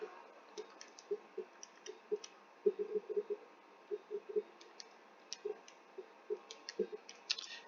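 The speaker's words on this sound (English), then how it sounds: "I'll type this into my calculator" Calculator buttons are pressed in quick irregular runs, soft close plastic clicks in small bursts with short pauses, in a quiet room with no talking.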